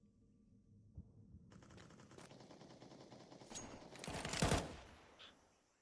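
Gunfire in a Counter-Strike esports match (Deagle and pistols), a quiet start building into a dense burst of shots that peaks loudly near the end, then fades.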